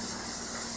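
Canola oil is sprayed onto an oven-baked pan in one short, steady hiss lasting under a second, heard up close with no talking.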